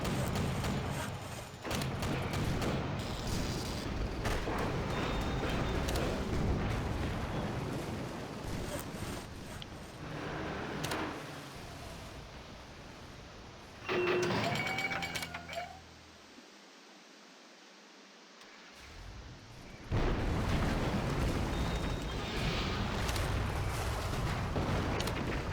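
In the Axis & Allies WW2 real-time strategy game's Battle of Kursk, dense rumbling bomb and artillery blasts roll on loudly, dropping to a brief near-silence mid-way before the heavy explosions surge back.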